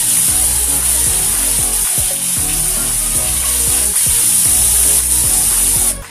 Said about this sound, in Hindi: जीरा भून गया है, अब मैं ये पेस्ट डाल दूंगी।